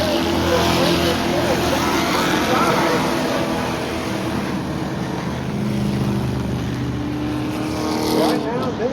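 Crown Vic race cars roar around Florence Speedway in a heat race, several engines droning loudly and steadily together with rising and falling pitch as they circle the track.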